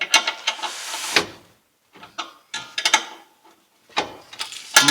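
Ratchet wrench snugging up bolts on a new Invidia Gemini exhaust fitted to a Nissan 350Z, heard as several close bursts of quick mechanical clicking separated by short pauses.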